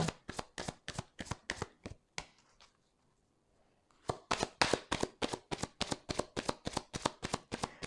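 Petit Lenormand cards being shuffled for a reading, quick rhythmic riffling bursts close up, pausing briefly in the middle before resuming at a brisk, loud pace.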